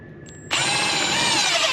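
Cordless drill driving a screw into a wood pocket hole held in a Kreg 320 jig, a steady close whine kicking in abruptly and holding under load, alone.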